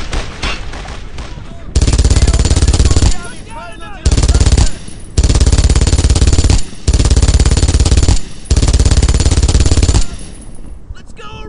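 Long, loud bursts of automatic gunfire from a World War II Brothers in Arms battle, several sustained volleys with short pauses between them. A voice calls out briefly between bursts.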